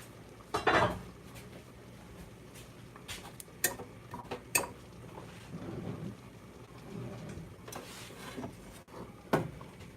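Meat is added to a pot and stirred while making pasta, heard as scattered clanks and scrapes of utensil against cookware with soft shuffling between, moderately loud and close, with no talk.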